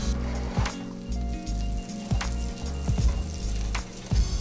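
Butter sizzling in a pan holding leftover shrimp carbonara sauce, a steady close crackle with a few soft utensil knocks and stirring scrapes throughout.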